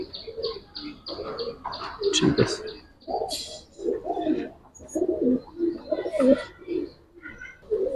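Giribaz pigeons on a rooftop giving soft, repeated cooing calls close by, mixed with brief chirps, while people talk over them.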